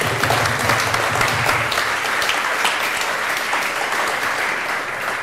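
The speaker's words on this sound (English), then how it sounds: "So let's give them a round of applause." A crowd at an interaction design talk claps steadily and loudly throughout, a dense even applause with no voices standing out.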